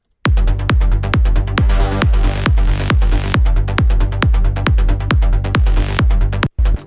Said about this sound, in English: So I've also got another saw bass here, which is sort of introduced now and again.